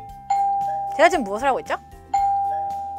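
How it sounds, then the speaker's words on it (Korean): A doorbell rings with a ding-dong chime, played twice, loud and close, with someone talking between the two rings. "방금 벨을 누르는 저의 모습이었습니다"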